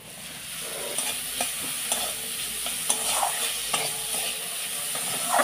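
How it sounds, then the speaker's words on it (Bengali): Pointed gourd pulp frying with cumin seeds in a pan, a steady soft sizzle with repeated scraping strokes of a spatula stirring at a regular rhythm, close and alone. "গ্যাসের ফ্লেমটা লোতে রাখবো, রেখে বেশ খানিক্ষণ 5-7 মিনিট ধরে ভেজে নেব"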